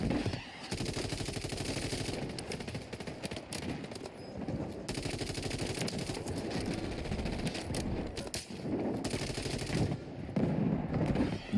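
Sustained rapid gunfire in a French multiplayer video game mode, a steady rattling stream of shots from close by that runs almost unbroken, with brief dips and surges.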